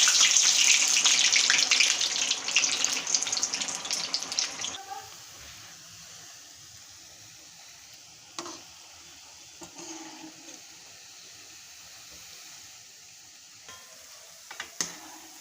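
Shankarpali dough pieces go into hot oil with a loud, bright sizzle for about five seconds, and the sound then fades to a faint, low bubbling broken by a few soft clinks and scrapes.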